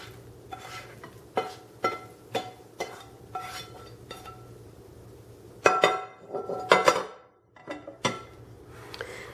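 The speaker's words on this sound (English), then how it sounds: "Now that my mushrooms and onions have been sauteed, I'm going to put them in with my mashed potatoes." Sautéed mushrooms and onions being spooned into mashed potatoes in a bowl: a string of sharp utensil clinks and taps against the bowl, then a few louder scraping, stirring knocks, all close up with no talking.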